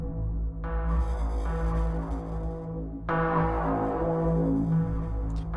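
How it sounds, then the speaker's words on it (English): Cinematic Dynamo synth preset in SynthMaster One swells in two long sustained chords, each opening with a brighter attack and settling into a rich, moving drone with a deep low end. "This is Cinematic Dynamo, which is a really great sounding preset"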